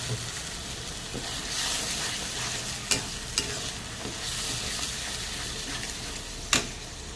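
Tomato paste cooks into fried onions in a pan with a continuous near sizzle, a few sharp clicks of a spoon or pan, and light stirring, with no voices.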